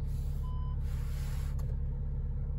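Rear parking sensor of a diesel VW Golf with DSG automatic gearbox beeping over a steady engine idle hum, a short tone sounding near the cabin around mid-clip.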